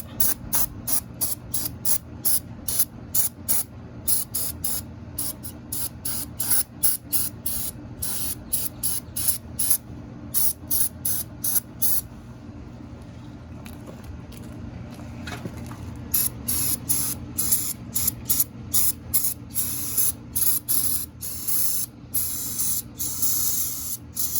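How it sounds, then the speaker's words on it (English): An aerosol can of cleaner sprays in quick repeated bursts onto the carburetor of a Yamaha VStar 650 motorcycle, sharp close hisses pulsing rapidly, with a brief gap partway through before the spurts resume. "I only sprayed it for like a minute, but there's only a little bit in there, so you kind of want to just wet it"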